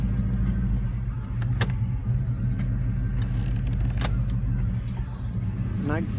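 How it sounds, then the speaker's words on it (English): A 1989 Chevy C1500 pickup with an exhaust leak idles in gear with the parking brake set, a steady close engine rumble with faint irregular ticks running throughout. "You'll hear what an exhaust leak sounds like"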